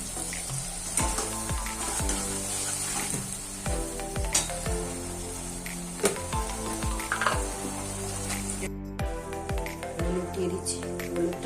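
Pieces of previously fried fish go into a hot pan for a prawn bhapa dish, setting off a steady sizzle punctuated by repeated clinks and scrapes of utensils, close and moderately loud.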